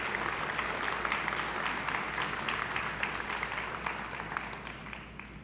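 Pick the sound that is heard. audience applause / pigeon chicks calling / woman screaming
audience applause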